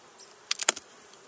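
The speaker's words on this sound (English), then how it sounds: "That thing's packed full of bees." Bees in an opened beehive give a few short, close buzzing bursts clustered together, then fade to quiet.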